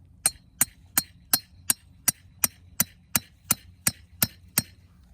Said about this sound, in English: And then I will drive my piece of rebar into the center.